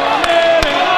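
A crowd at a PPW Fallout wrestling event roars steadily, a dense wash of cheering with a couple of sharp thuds breaking through.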